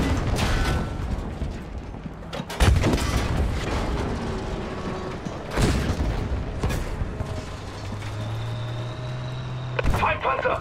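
In Battlefield 5, German tanks approach amid a battle: deep engine rumble and clanking mechanisms under several loud booms and explosions, with a shouted voice over the din.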